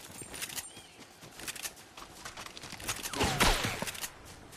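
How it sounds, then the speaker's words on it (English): Gunfire in the video game Fortnite: a dense stream of sharp shots crackling through the scene, building to a louder, heavier burst near the end. "Someone's shooting us."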